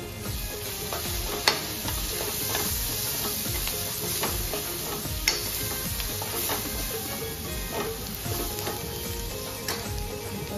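Golden-brown onions fry in oil with turmeric and masala, sizzling steadily up close while a spoon scrapes and stirs in regular strokes, with a few sharper clacks, for dried bombil and fenugreek dish.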